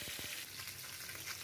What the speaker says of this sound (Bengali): হলুদ ও লবণ দিয়ে মাখিয়ে রাখা কাতল মাছগুলো ভেজে নিচ্ছি।